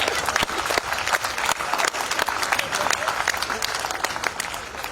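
An audience at a Hindi poetry recital (kavi sammelan) in Gurgaon bursts into steady, dense applause, loud and sustained for several seconds with no break.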